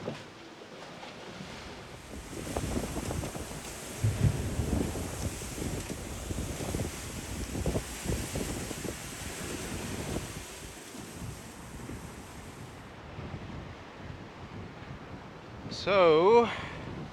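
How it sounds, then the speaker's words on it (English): Wind and rough seas aboard a sailboat in blowy conditions at sea, a steady broad rushing roar with surging wash and gusts throughout, a voice speaking over it and a brief sharper sound near the end. "been another blowy day and a pretty rough, but not too bad"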